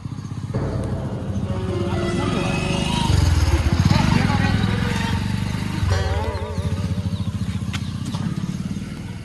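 A motorbike engine runs and hums steadily through the ride, with voices talking over it from start to finish.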